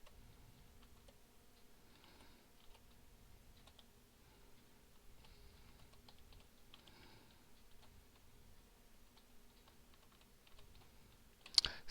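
Quiet, close typing on a computer keyboard, with light scattered clicks and a few brief bursts of faster keystrokes, ending in a sharp louder click.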